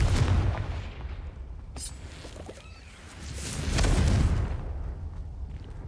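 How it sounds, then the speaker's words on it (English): Deep booming blasts from the Confringo fire spell in Hogwarts Legacy, a PC game, with one sharp burst near the start and a heavier, rolling explosion a few seconds later over a rumbling game soundscape. "Confringo!"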